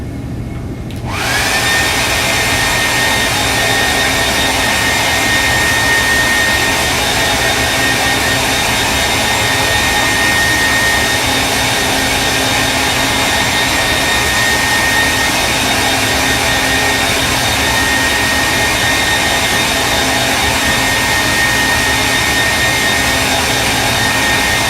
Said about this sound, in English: I'm going to rinse my brush and then I'm going to blow dry again